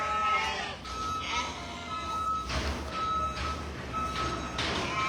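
Sheep and older bottle-fed lambs bleating in a farm lambing barn, several overlapping calls near and far over a low barn hum, with a faint beeping tone in the background.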